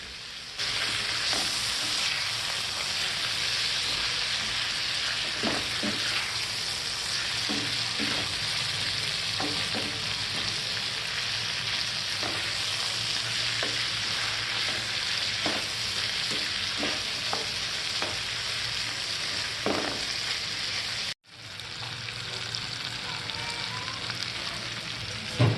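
Chicken sausage and egg sizzle steadily in a pan for sausage pasta, with repeated light scrapes and clicks of stirring over a constant close frying hiss; a brief gap near the end before the sizzle resumes.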